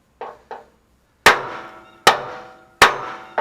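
Hammer blows driving rivets out through a Chevy C10 frame: two light taps, then three loud ringing metallic strikes spaced about a second apart, close and sharp, with no talk.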